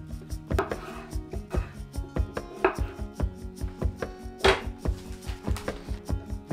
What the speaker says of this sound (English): I'm gonna cut these potatoes into about 4 pieces